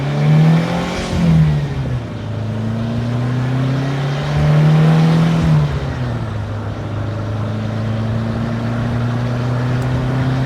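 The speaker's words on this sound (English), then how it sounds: "As you can see, third gear, fourth gear, fifth gear." A 1981 Renault R5 Turbo 1 accelerates hard through the gears, its engine note rising and dropping with each upshift, loud and close as heard from inside the car.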